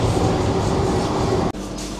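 Vande Bharat Express 22895 running at about 127 km/h between Jajpur and Cuttack on the Howrah–Puri route, heard from inside as a loud, steady rumble with one brief dropout near the end.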